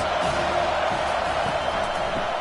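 A college football stadium crowd at a Marshall versus Penn State game roars steadily on a big third down, rallying behind the defense: a dense, continuous wash of cheering with no breaks.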